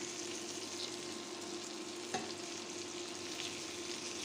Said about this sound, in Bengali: চিংড়ি মাছ হতে সময় খুবই কম লাগে, 2 মিনিট ভাজলেই হবে।